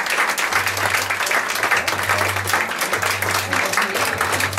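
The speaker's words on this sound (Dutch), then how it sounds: "een klein applaus voor onze mannequins" Steady, dense applause from an audience at a fashion show, cheering the models, sustained and fairly loud throughout with a low electrical hum beneath.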